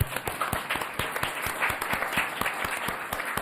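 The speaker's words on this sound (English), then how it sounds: "give these folks a round of applause for what they do" A room at a board of education meeting breaks into a round of applause. Dense, steady clapping from many hands fills the space evenly for the whole stretch.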